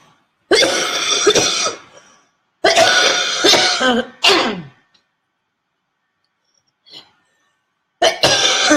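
Several harsh coughing bursts, loud and close, in quick clusters separated by short pauses, with a faint breath between.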